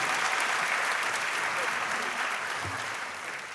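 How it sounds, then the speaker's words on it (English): Sustained applause from an audience at a women's empowerment event, a steady even wash of clapping heard from some distance that tapers slightly toward the end. "Let's give her one more time a big round of applause."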